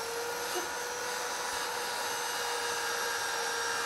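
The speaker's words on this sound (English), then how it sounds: "the only thing left to do is take off this little nub, and we're going to sand that off right now" Sanding the small nub off a woodturned wooden hollow form on a lathe: a steady, loud, continuous whir and hiss with no breaks, close by and alone.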